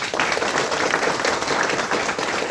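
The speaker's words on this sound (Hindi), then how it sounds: "एक बार इसके लिए जोरदार ताली।" Applause from a live audience at a business plan presentation, a dense, steady wash of many hands clapping that fills the whole stretch without pause, loud and close.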